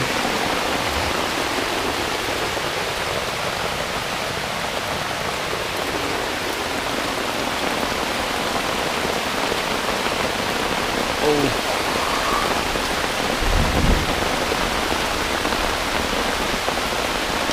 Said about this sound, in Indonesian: Hujan teman-teman.